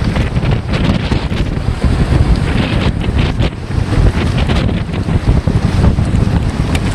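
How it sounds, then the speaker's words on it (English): Storm wind roars against the microphone as choppy water washes and splashes over a rolling EZ Dock, a loud, continuous, gusty rush with no pauses. "There's water blowing right up over it."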